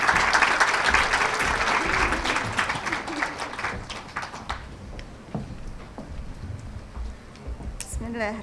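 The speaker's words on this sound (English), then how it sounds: "Please welcome her with a warm round of applause," A conference audience welcomes someone speaker with a burst of applause that is loud at first, then thins into scattered claps and fades out, with a few faint voices near the end.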